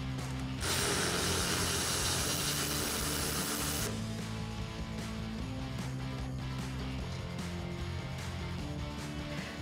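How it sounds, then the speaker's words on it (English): A ratchet with a 21 mm socket cranks on a Jeep Gladiator JT tow hook bolt, a dense, fast clicking that runs steadily up close, followed by slower, softer turns of the ratchet. "There are two 21 millimeter bolts holding it on, so grab a 21 millimeter socket and let's get these removed."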